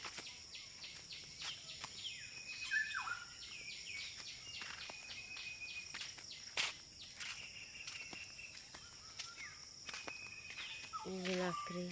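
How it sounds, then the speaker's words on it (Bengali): Birds call and chirp outdoors at a rural home among stacked firewood and crop fields, with insect drone underneath, brief chirps scattered throughout and a few footsteps or knocks. "পাখি ডাকতেছে অনেক সুন্দর।"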